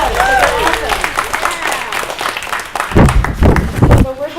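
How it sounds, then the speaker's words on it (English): An audience at a school author event applauds young readers, a steady patter of clapping with crowd murmur and heavier thumps near the end. "let's give them again another round of applause"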